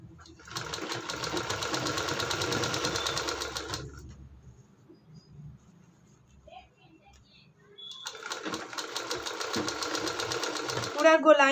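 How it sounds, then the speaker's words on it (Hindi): A sewing machine stitches a sleeve on all the way around in two bursts of fast, rattling needle chatter, separated by a quiet pause, close and fairly soft. "पूरा गोलाई में हमें सिलाई को लगाते जाना है सही तरीके से"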